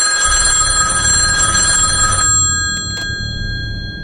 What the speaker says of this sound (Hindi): तभी शॉप का फोन बज उठा।